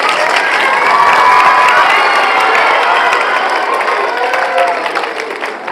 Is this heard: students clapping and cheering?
yes